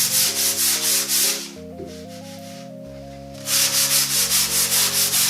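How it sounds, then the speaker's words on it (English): Steady rhythmic rubbing of 240 grit sandpaper between finish coats on a desk, loud and close, pausing briefly in the middle before resuming with the same back-and-forth strokes; faint tonal music runs underneath. "I sand it with 240 grit sandpaper in between each coat."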